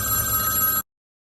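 A telephone bell rings steadily, bright and close, then stops abruptly, leaving silence.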